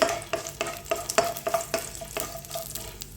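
Cashew nuts frying in oil for semiya upma: quick, rhythmic scrapes of a spoon stirring in the pan over a soft, steady sizzle, close and fairly quiet, with no voices.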